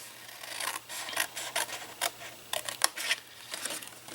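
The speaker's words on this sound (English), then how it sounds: "you're going to cut up to the middle score line" Scissors snipping through scored paper card, close up: a steady run of crisp, rapid cuts and rustles with no talk.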